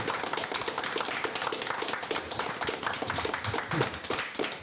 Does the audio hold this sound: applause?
yes